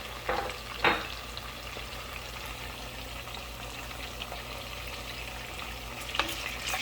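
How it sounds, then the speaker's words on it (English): Sliced onions with a pinch of salt fry in a pan with a low, steady sizzle, a couple of sharp clinks or scrapes near the start and end, at moderate loudness and without talking. "And now I'm going to fry my onion."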